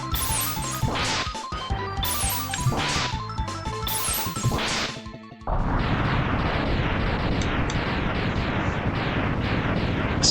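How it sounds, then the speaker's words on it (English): Mega Man X gameplay with a rapid run of blasty 8-bit-style explosion bursts, then a dense continuous roar of crashing explosions that carries to the end, loud and with no voices. "So many explosions."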